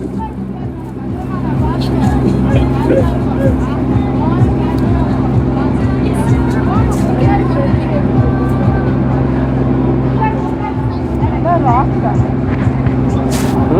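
A constant low boat engine drone runs throughout a ride to St. Mary's Islands while people chatter over it.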